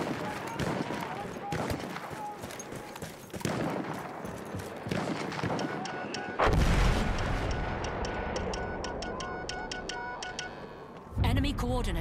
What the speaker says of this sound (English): Artillery, get cover!